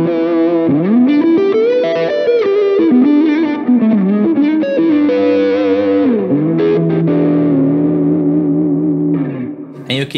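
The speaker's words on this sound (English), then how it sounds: "So this is the sound of the blues patch." Line 6 Helix blues patch electric guitar tone, driven and chorus-tinged with reverb, playing a continuous melodic lead line with bends, fairly loud and up front for about ten seconds.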